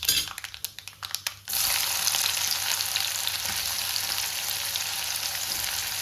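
Onions hitting hot oil already crackling with tempering seeds burst into a loud, steady sizzle after a second and a half of clattering, then hiss continuously and close up without any talk.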